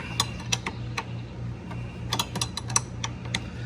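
A ratchet wrench tightens the battery terminal clamp on a 1973 Ford Mustang Mach 1, giving a run of sharp metallic clicks in uneven bursts over a low steady hum.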